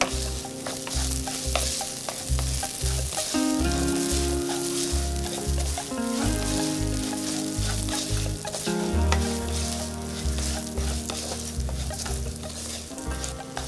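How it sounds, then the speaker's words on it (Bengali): Mixed vegetables and mung lentils frying in a pan make a loud, steady sizzle close up, broken by repeated stirring scrapes, with no talking. "প্রায় ভাজা ভাজা হয়ে আসছে"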